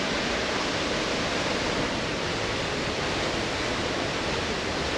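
The Pailón del Diablo waterfall in Baños de Agua Santa, Ecuador, roars as a dense, constant rush of falling water, steady and unbroken, heard close with no voices.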